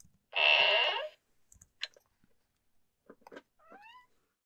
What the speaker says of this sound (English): And I've just been joined by my own cat, Garnet.